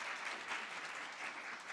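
Steady, fairly faint applause from an audience at a presentation in the National Assembly, welcoming a company CEO to the stage; an even wash of clapping with no talk.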